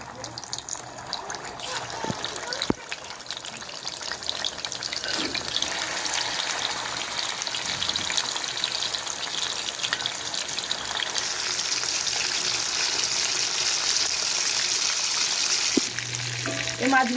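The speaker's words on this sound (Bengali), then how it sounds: "তেলটা গরম হয়ে গেছে, এবার এর মধ্যে দিয়ে দেবো মাছ" Hilsa fish pieces fry in hot oil, producing a continuous sizzling hiss that swells louder partway through, with occasional clinks and faint background voices.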